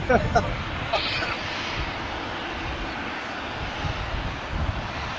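An airplane at LAX airport produces a steady, broad engine roar at moderate distance while people talk over it.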